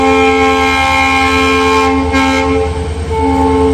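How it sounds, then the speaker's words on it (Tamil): A WDP4D diesel locomotive heading the Madurai–Sengottai passenger express sounds its horn, a loud, sustained multi-tone blast held close by for several seconds with a brief dip near the end. "ஹார்ன் சவுண்ட் கேட்டிருப்பீங்க, செம்மையாக இருக்குது"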